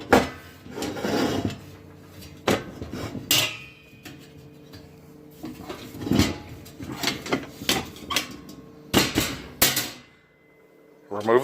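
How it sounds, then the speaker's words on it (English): Metal lid of a Coleman catalytic heater being opened, giving several sharp clanks and knocks close by, with handling rattles scattered between them and quiet pauses, no talk over it. "open the lid"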